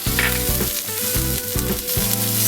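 Ginger and garlic stirred in a hot pan for Mongolian beef: loud continuous sizzle with rhythmic scraping strokes of a utensil, close up and alone without speech.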